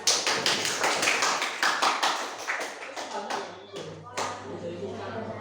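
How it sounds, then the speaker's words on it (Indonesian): An audience in a classroom or small hall claps for a second-place winner, a scattered run of hand claps that thins out, while someone speaks. "bisa kasih aplaus"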